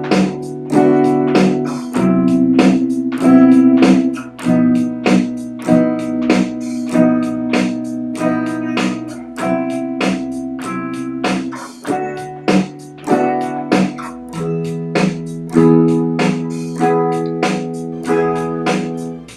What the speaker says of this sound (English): If we apply the same concept to chords, it's going to sound like this.